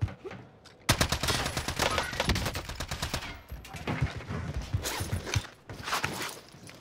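Rapid automatic gunfire in a video game, dense crackling bursts that start sharply after a quiet second and continue in close, loud rattling runs with brief gaps.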